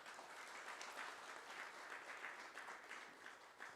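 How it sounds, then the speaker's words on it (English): An audience at a Nepal–UK economic partnership forum gives its panelists a steady, even round of applause, a soft continuous patter of many hands heard from a distance throughout. "Let's give them a round of applause."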